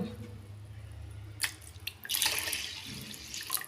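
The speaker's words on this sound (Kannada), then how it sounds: "ಸ್ವಲ್ಪ ಜಾಸ್ತಿ ನೀರು ಹಾಕಿಕೊಳ್ಳಿ" Water pours into a pot of washed rice, beginning with a brief splash and then building into a steady gush of running water. A low hum sits underneath.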